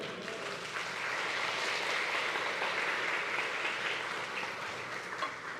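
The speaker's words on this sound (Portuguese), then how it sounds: "Dê um aplauso a ele." Church congregation applauding together, a steady dense wash of clapping that fills the room and holds at an even level throughout with no talk over it.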